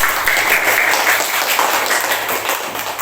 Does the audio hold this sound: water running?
no